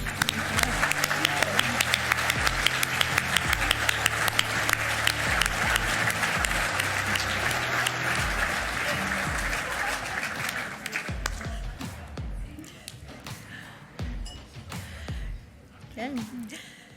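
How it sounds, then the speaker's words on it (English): A final round of applause at the 2024 JA Business Hall of Fame ceremony in New Brunswick, with loud crisp claps and music at first, thinning into scattered claps and voices toward the end. "One last round of applause."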